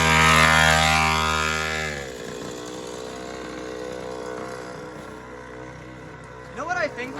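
A Chinese pocket bike engine screams at high revs during a burnout, loud and strained at first, then dropping away into a lower rumble with a brief sharp whine near the end.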